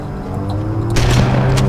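A plasma grenade detonates in Halo: Combat Evolved, a loud, broad burst that lands partway through over a steady hum of game ambience, rumbling on for the rest of the moment.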